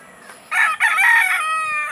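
A gamecock rooster on a small breeding farm lets out one full crow, close and loud, lasting about a second and a half over quiet farmyard background.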